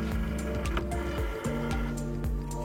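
A Cricut cutting machine draws in its mat with a close, whirring motor buzz and rhythmic mechanical clicks, a steady hum pulsing under brief stepped motions.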